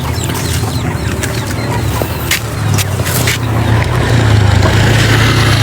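Chickens cluck on and off over a steady low rumble and broad background noise that grows slightly louder toward the end.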